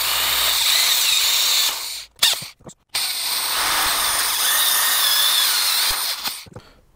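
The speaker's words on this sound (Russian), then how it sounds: "Для просверливания отверстий беру фрезу. Фреза из-под парктроника, ну, диаметр, не знаю, примерно 18. И просверливаю 2 отверстия." Power drill with a roughly 18 mm cutter boring two holes for a DIY heated car mirror install, a loud steady whine that cuts off briefly twice near the middle and stops at the end, with no talking.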